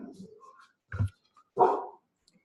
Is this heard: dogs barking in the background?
yes